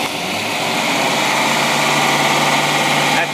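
A carbureted engine idles steadily and loudly up close, a smooth continuous drone with a broadband roar that holds even throughout.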